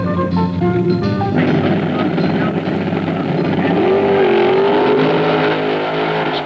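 Drag racing cars run at Bee Line Dragway during the 1974 AHRA Winternationals, a loud continuous engine roar with a rising whine partway through, steady and close throughout.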